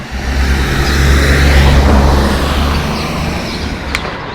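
A car drives along a road in the eastern Algarve, Portugal, with a loud, steady engine hum and road rumble, heard from inside or close by.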